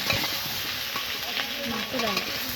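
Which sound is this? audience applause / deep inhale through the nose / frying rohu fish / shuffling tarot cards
frying rohu fish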